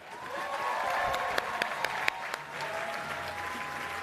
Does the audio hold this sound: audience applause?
yes